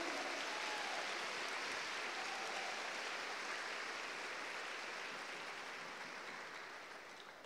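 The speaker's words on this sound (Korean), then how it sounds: "Palmas ao nosso Senhor." A church congregation at a revival conference claps together in a soft, distant, continuous wash of applause that slowly fades toward the end.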